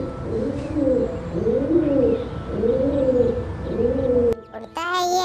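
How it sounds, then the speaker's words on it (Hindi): A pigeon coos in repeated soft, rolling phrases, close and clear, followed by a brief pause and a few higher chirps at the end. "पिजन, बच्चों नाम है इसका कबूतर"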